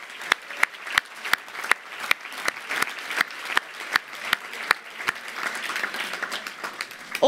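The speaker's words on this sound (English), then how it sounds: "a round of applause to all of those faculty that are with us today" An audience at a graduation ceremony applauds the faculty, with several sharp, loud individual claps over a dense, continuous bed of crowd clapping that swells and then evens out.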